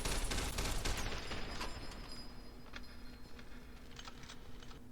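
Enemies in Fallout: New Vegas shoot in a quick, crackling volley of gunfire that is loudest at the start, then fades into scattered fainter shots against a steady background hum.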